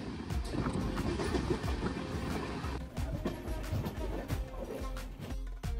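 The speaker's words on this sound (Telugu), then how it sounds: "ఈ ట్రైన్ అయితే హెవీ స్పీడ్లో పోతుంది" A Tirupati special train runs at about 128 km/h, giving a loud, rushing rumble with rattling clatter close by and a brief drop in noise midway.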